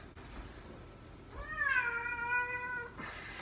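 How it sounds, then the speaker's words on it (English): A single drawn-out cat meow, close and clear, rising then falling over about a second and a half against a quiet room. "here comes my cat"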